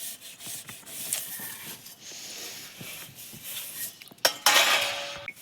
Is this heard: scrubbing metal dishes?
yes